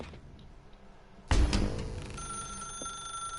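A telephone rings in the video game The Stanley Parable, starting as a sharp loud onset and settling into a sustained electronic ringing tone with steady high tones, heard alone without speech.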